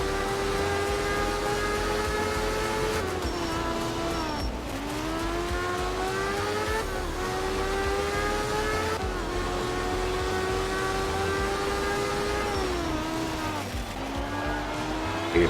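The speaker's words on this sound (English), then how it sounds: "I do like the sound of the rotary" A rotary-engined race car in a racing video game, revving high and dropping through repeated gear shifts, a loud, buzzing, continuous engine note with no talk.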